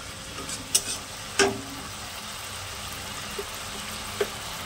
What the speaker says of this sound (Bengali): লবণ দেওয়ার পরে দেখুন জল বেরিয়েছে, জলটাই ভালো করে নেড়ে নেব